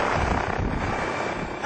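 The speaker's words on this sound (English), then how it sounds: "of course Huaxi has its own helicopters for tourist joyrides" A tourist joyride helicopter over Huaxi village, China, gives a steady, loud rotor and engine roar that holds evenly throughout without a break.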